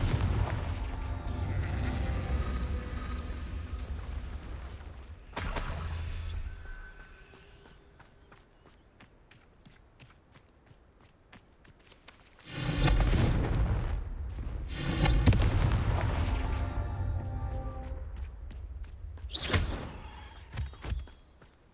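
Confringo blasting spells explode in Hogwarts Legacy, several loud booming bursts spaced across the stretch, with quieter gaps of footsteps and small ticking game sounds between the blasts.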